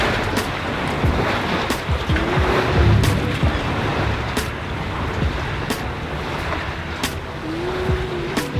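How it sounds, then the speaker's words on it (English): Ocean waves wash and roll steadily throughout, a broad continuous surf roar with periodic surges of spray, with faint wind and distant engine noise beneath. "The waves again."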